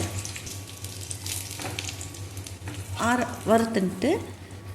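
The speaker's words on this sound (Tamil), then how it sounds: "இப்போ முதல்ல புளி, இஞ்சி, வரமிளகா, பெருங்காயம் எல்லாம் போட்டு நல்லா வறுத்துன்ட்டு" Tamarind, ginger, dried red chillies and asafoetida frying in a pan, a soft continuous sizzle under a low hum, with a few brief voiced sounds near the end.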